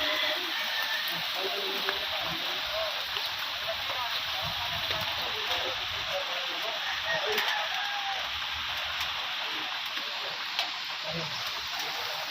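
Heavy rain pours steadily in a broad, dense hiss that stays even and loud throughout, with faint scattered taps and low rumbles beneath it and no voices.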